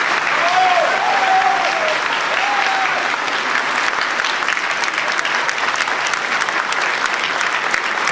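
Sustained loud applause from an audience at a municipal election results announcement in Poissy, steady and dense throughout with a few faint voices mixed in.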